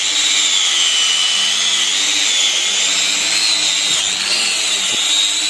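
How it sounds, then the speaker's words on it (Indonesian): A steady, high-pitched whirring grind runs continuously and close, an angle grinder's wire brush scouring and polishing an engine block with no talking. "amplas menggunakan sikat gerinda seperti ini sampai betul-betul merata"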